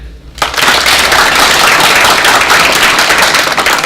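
A debate audience breaks into a dense, loud burst of applause to vote for Professor Hilmer, starting abruptly after a brief quiet moment and holding steady to the end.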